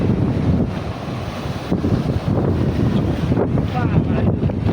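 Sea waves crash against rocks at Gomti Ghat in Dwarka, a loud continuous roar of surf and churning water mixed with heavy wind buffeting, with a voice faintly audible beneath.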